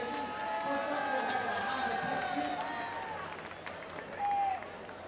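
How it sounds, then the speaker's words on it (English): A raucous crowd at an RPI Engineers vs Union College men's ice hockey game keeps up a steady roar of cheering and clapping, with a brief swell near the end, under a commentator's talk. "this crowd has been raucous, and the Engineers have delivered so far"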